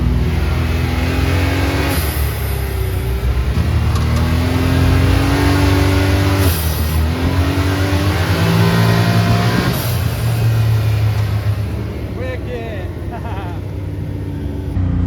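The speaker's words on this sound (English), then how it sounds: "Just got that blow-off valve installed." A Can-Am Maverick X3 side-by-side engine with a blow-off valve revs and drops several times while driving, close and loud, with short hissing bursts after each throttle lift and a voice briefly heard underneath.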